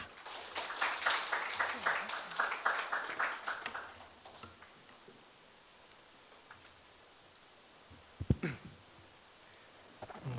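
An audience at a university mentoring results session welcomes a presenter with a short burst of clapping that fades after a few seconds, followed by quiet room noise and a few scattered sounds.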